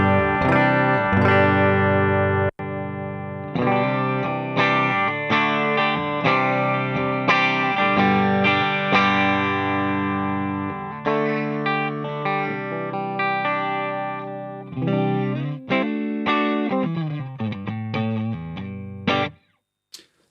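Guitar played through a NUX Solid Studio pedal loading a Jazz Chorus cabinet impulse response miked with an SM57, strummed chords and picked runs, loud and sustained throughout, with a brief break early on and a sudden cutoff near the end.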